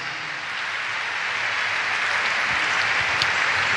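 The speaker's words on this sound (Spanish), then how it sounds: "Bendítele palmas al Señor." A church congregation claps for the Lord during a Spanish-language service, a steady, dense wash of applause from many hands that holds at an even level throughout.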